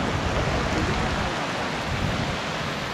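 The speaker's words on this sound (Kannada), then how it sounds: "ಅಲ್ಲಿಂದ ಹಾಗೆ ನೀರು ಈ ಕಡೆ ಹರ್ಕೊಂಡು ಆ ಕಡೆ ಹೋಗುತ್ತೆ" River water flowing below a waterfall at Harvalem in South Goa, with rain: a steady, dense rushing wash close by, constant in level and heard alone without voices.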